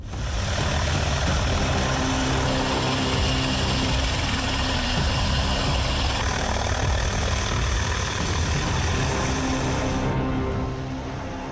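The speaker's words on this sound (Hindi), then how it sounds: "ये तस्वीरें तेहरान की हैं, जहां रूसी Mi-28NE अटैक हेलीकॉप्टर परवास करते देखा गया है।" Russian Mi-28NE attack helicopter flying over Tehran, a loud, steady roar of engine and rotor that holds throughout and eases a little at the very end, with no voices.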